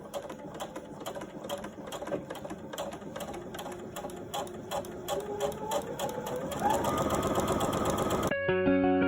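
A sewing machine sews a seam in a steady mechanical stitching rhythm at close range. It speeds up toward the end, then cuts to a brief tonal passage.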